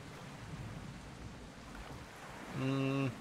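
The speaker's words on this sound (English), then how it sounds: "It is raining now, though." Steady, hissing rainfall fills the background in an island survival crafting video game, and a brief tonal blare like a horn sounds near the end.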